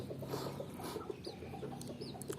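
Young Thai chicks cluck and peep softly in a repeated, scattered pattern, faint and close, with low background hum and no voices.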